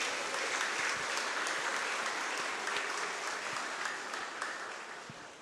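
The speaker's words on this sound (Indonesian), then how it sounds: "mari kita berikan aplaus kepada anak-anak kita boleh tepuk tangan" A church congregation applauds during a Sunday service confirmation ceremony at HKBP Depok, a dense, even patter of many hands at moderate distance that fades slightly toward the end.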